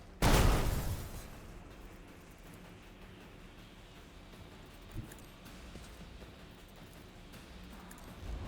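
A grenade explodes in Warhammer 40000: Rogue Trader, a single loud, close blast at the very start that quickly fades into a low, steady ambient rumble with a faint thud later on.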